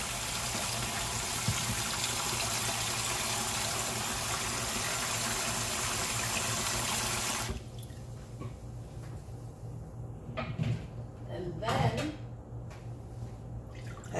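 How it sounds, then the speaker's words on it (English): Cold tap water runs over blanched pasta for seafood mac and cheese, a steady loud rush for about seven seconds that then cuts off, leaving quieter dripping, splashing and kitchen handling. "you're going to run cold water on it to stop the cooking process"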